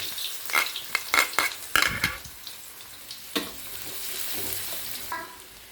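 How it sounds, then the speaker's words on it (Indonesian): Shallots being sautéed in a pan, opening with a quick run of spatula scrapes and clatters against the metal, then a softer, steady sizzle with an occasional knock. "tumis dulu bawang merahnya"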